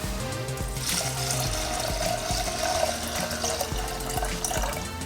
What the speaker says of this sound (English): let's add 440 grams of water